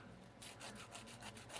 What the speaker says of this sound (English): I'm having to do a lot of sanding.